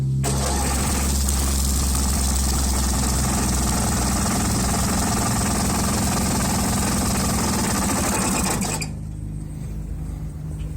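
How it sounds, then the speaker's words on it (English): A Bolens garden tractor with hydraulic lift fires up and runs at a steady, loud close-range chug for about nine seconds, then the engine noise drops away to a quieter background. "It fires right up, and it's got the hydraulic lift."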